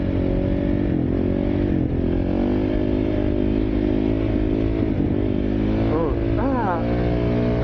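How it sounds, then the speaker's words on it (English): A KTM motorcycle engine idles with a steady throb and is then blipped in sharp, rising revs near the end, loud and close, with someone talking over it. "on the KTM. This thing can rev like nuts."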